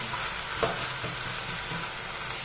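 Ragi dhapate, a finger-millet flatbread, sizzles steadily on a hot oiled griddle, a continuous frying hiss with a faint stir or tap partway through and no talking.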